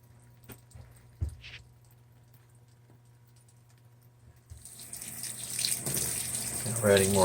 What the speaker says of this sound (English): We're adding more water, but look how far it has squashed this queen size comforter down.